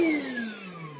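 A Milwaukee battery-powered shop vacuum that doubles as a blower runs with a strong whining motor tone, its pitch sliding steadily downward as it winds down and the sound slowly weakens, with no talking.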